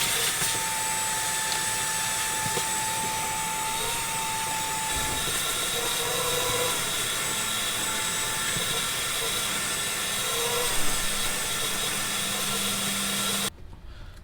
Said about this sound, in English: But first I'm going to vacuum up this rust.